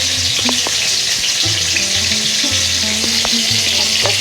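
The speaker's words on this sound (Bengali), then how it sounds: "বন্ধুরা ভাজা হইতে থাক" Lote fish pakoras fry in hot oil at an evening roadside stall, sizzling loudly and continuously with intermittent stirring and clinks of utensils.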